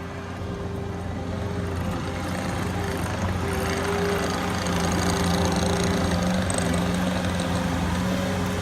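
A tractor engine runs steadily while hauling dirt back up from a swale to level ground at a ranch, a continuous mid-pitched rumble with a slight rise in loudness partway through.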